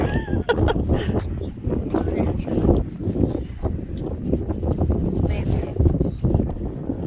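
Gusts of wind on the Cape Cod coast buffet the microphone in rough, uneven bursts, with faint voices underneath.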